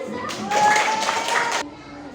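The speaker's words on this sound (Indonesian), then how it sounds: "tepuk tangan" A short burst of group clapping from children, quick and scattered, lasting about a second amid faint chatter.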